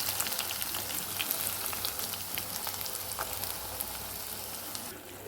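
Ground coconut paste with curry leaves frying in a pan, a dense, close sizzle with fine popping crackles that eases slightly toward the end.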